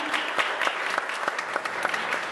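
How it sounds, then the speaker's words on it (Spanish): An audience applauds a cameraman and a teacher at a science-in-a-bar talk, with dense, steady clapping filling the room and no voices. "un abrazo y un aplauso a los dos"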